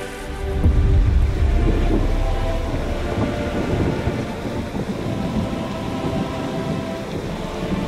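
A thunderstorm rolls over the Dark Rain Plains in Lost Ark: a deep, loud thunder rumble swells near the start and then fades under a dense, continuous wash of heavy rain.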